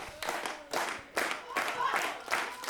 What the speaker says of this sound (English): Crowd coming up for Freaky Felicia.